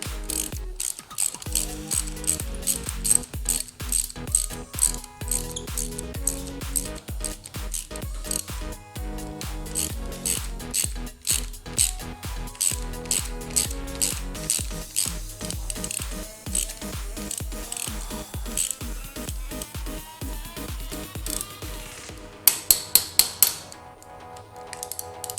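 Ratchet wrench tightening a part on a 2021 Yamaha YFZ450R ATV, long runs of quick, close, crisp clicking in uneven bursts, ending with a few louder metallic clunks, and no talk.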